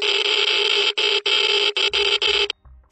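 A Geiger counter measuring radiation gives off a loud, dense crackle that blurs into a harsh buzz, broken by short gaps, before it cuts off.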